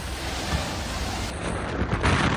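Roaring, gusty hurricane wind from Hurricane Milton blasting steadily and loudly, with harsh buffeting noise on the microphone and a surf-like rush throughout.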